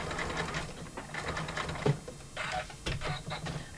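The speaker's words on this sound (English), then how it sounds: "we stitch along that folded edge." Sewing machine stitching along the folded edge of an embroidered fabric trivet, a steady, fairly close mechanical whir and rapid needle chatter with brief pauses.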